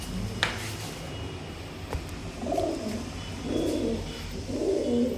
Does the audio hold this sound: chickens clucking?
no